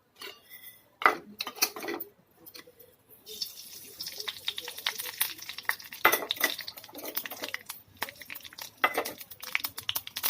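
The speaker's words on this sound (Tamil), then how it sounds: "கடுகு பொரியுது." Mustard seeds crackle and spit in hot oil during tempering for an Andhra-style bottle gourd dal kootu, a dense run of sharp pops and sizzles with some pan and utensil clatter, close and fairly quiet.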